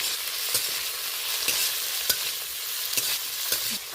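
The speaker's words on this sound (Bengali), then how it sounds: "2-3 মিনিট ধরে নেড়ে চেড়ে বেশ পেঁয়াজটা নরম করে নেব, যত সময় না কাঁচা ভাবটা নষ্ট হচ্ছে" Chopped onions and green chillies fry in a pan with a steady sizzle while a spoon stirs them, scraping the pan in sharp clicks every half second or so, close and without talk.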